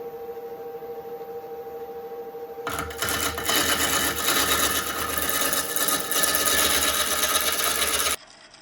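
A wood lathe turns a punky, beetle-damaged beech burl hollow form. A quiet motor hum with a high tone gives way to a loud, rough, broadband scraping rush as the tool cuts for about five seconds, then stops abruptly.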